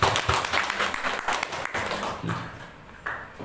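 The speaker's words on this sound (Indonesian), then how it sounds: "tepuk tangan Bapak Ibu sekali lagi" Audience of teachers at a preparatory meeting applauding, a short burst of dense clapping that thins and fades within a few seconds.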